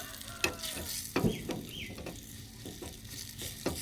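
Spices and salt being stirred into coconut rice in a hot pan: a soft, steady sizzle with a few sharp scrapes and clacks of the spoon against the pan, up close.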